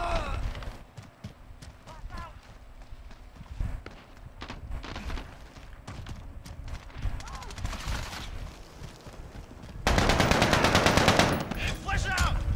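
Mounted machine gun in a Call of Duty-style multiplayer shooter, firing in rapid rattling bursts with scattered shots and footsteps, swelling into a loud sustained stream near the end while a player talks over it.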